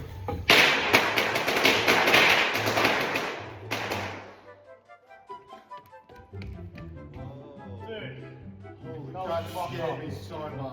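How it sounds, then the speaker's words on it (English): A lit firework thrown indoors up a staircase bursts in a dense crackling barrage of rapid pops and thuds. It then fades into a quieter stretch with voices and scattered knocks. "I'm gonna light this firework and just chuck it up there."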